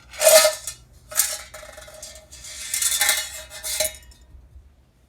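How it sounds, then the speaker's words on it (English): Hot Remington 1858 revolver parts are dumped out onto a rag, giving close metallic clinks and rattles in several bursts over a few seconds before it goes quiet. "I'm going to dump these parts out on my rag over here."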